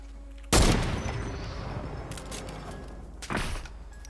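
Gunfire in the video game Fortnite, with sniper rifle shots: a loud, sharp blast with a long echoing decay, followed by a second, softer report about three seconds later.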